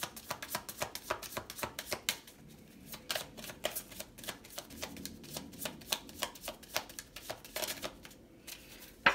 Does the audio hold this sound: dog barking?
no